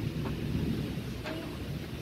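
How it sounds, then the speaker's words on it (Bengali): A windy storm with rain brings a dense, continuous roar of gusts and falling rain, with wind buffeting the microphone throughout and no clear pauses. "দেখো কি হাওয়া হচ্ছে"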